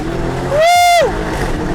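An 800 HP Lamborghini Urus SUV accelerates hard, its engine rising into a loud, strained tonal roar that holds for about half a second before dropping away, heard close over a constant rumble.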